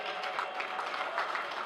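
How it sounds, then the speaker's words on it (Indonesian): A crowd at a halal bihalal gathering claps for the alumni, a dense, steady patter of many hands at moderate distance, with some talk mixed underneath. "Tepuk tangan buat para alumni"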